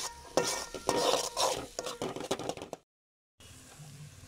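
Spatula scraping and stirring masala with sambar powder in a pan, close up, with repeated clinks and scrapes of metal against the pan over a low sizzle, then a brief silence before a quieter stretch.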